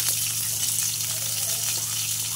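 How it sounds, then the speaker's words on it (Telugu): Ridge gourd pieces frying in a pan, a steady dense sizzle with a constant low hum underneath, close and even throughout with no talking. "బీరకాయ ముక్కలు వేయించుకుందాం"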